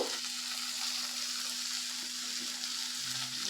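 Potato and carrot fry in a pan on a low flame for spicy suji, making a steady hissing sizzle that stays even throughout, with a faint constant hum underneath.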